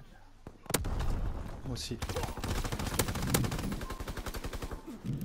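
Rapid automatic gunfire from Call of Duty WW2 multiplayer, with dense bursts and a quick rattling volley toward the end, close and loud under excited French talk.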